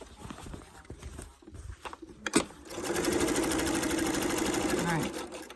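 A sewing machine stitches an appliqué star, starting after a few hand-handling knocks and a sharp clack, then running as a fast, even mechanical whir for a few seconds before stopping.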